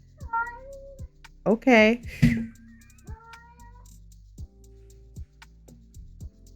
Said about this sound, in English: Do you guys hear my cat?